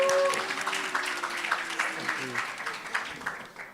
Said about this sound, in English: As well, give yourself a round of applause.